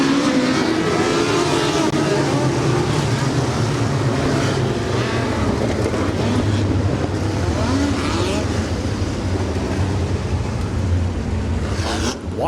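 Dirt track race cars at the IMS Dirt Track during the USAC BC39 circle the speedway under caution, a steady loud engine drone that rises and falls as the cars pass, with a commentator's voice running over it throughout.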